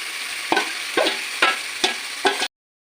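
Marinated chicken, in a palak chicken dish, slid a little at a time into hot oil, where it sizzles loudly in five distinct bursts about half a second apart against a steady frying hiss, ending abruptly in silence.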